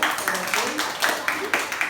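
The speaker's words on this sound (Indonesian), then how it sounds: "ya bisa tepuk tangan dulu" A classroom of students claps for a classmate's answer in quick, even, rhythmic claps, near and moderately loud, lasting about two seconds.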